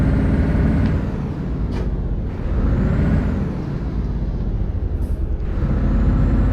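A big, powerful Scania truck in Euro Truck Simulator 2 rumbles loudly as it works through its gears, with sharp hisses of air brakes breaking through the constant engine roar.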